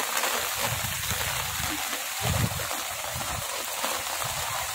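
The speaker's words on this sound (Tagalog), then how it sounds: "At baka lalo pa lumaki ang baha, umuulan pa." Steady rain hisses over rushing floodwater during Typhoon Enteng in Burdeos, Quezon, a constant wash of sound with low churning from flowing floodwater, close and continuous.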